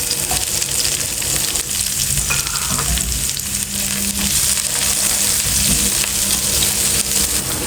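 Garlic and onion sizzle loudly and steadily in a hot pan of oil for paksiw na pata, with occasional stirring scrapes over the constant frying hiss.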